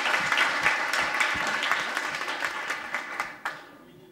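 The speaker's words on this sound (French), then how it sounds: "Applaudissez-le encore." A concert audience gives lively applause, a dense patter of many hands clapping at moderate volume before tapering off near the end.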